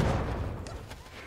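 A grenade blast in Super Animal Royale during a 2v2 dodgeball tournament, a dull booming rumble that dominates the moment and fades quickly.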